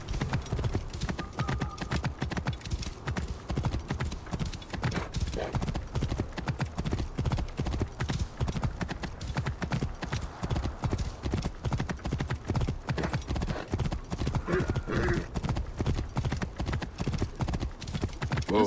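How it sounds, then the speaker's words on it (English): A horse's hooves clip-clop in a fast, steady rhythm throughout a ride in the video game Assassin's Creed Origins, close and continuous, with a brief whinny and faint game ambience. "Let's grab our horse and off we go."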